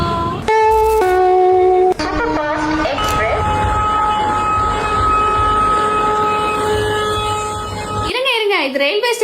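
A train-themed restaurant plays loud train sounds: a blaring horn-like tonal blast in short bursts, then a sustained multi-tone horn and rumbling rail noise running throughout, ending with a swooping tone.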